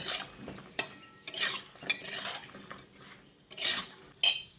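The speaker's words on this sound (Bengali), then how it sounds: "এবার আমি গ্যাসের ফ্লেমটাকে মিডিয়ামে করে শিমগুলোকে এইভাবে একটু ভেজে নিচ্ছি।" Flat beans fry in mustard oil in a pan over a medium gas flame while a utensil stirs them, scraping and clinking in irregular bursts over a faint sizzle, with no voices.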